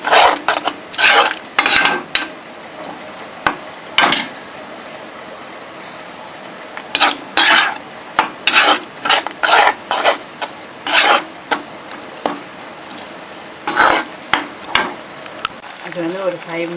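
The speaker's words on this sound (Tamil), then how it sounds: "இது வந்து ஒரு 5 மினிட்ஸாக நல்லா வதங்குது." Thick palak (spinach) puree for palak paneer being stirred and sautéed in a pan, with repeated scraping and rasping strokes in uneven bursts over a low sizzle.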